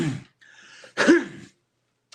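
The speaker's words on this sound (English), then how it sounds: "speaking of that cough right there" A person coughs and clears their throat nearby, a couple of short rough bursts separated by brief quiet, alone without talk.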